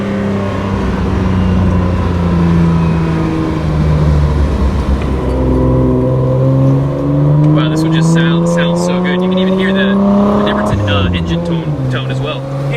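Nissan Skyline GT-R engine and exhaust heard from inside on a ride along, a loud continuous drone climbing through rising revs and gear changes, with voices talking over it.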